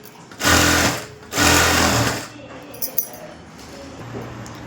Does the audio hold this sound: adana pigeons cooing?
no